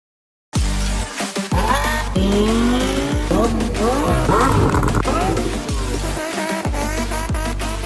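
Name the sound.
supercar accelerating on a top speed run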